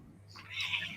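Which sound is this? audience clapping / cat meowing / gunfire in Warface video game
cat meowing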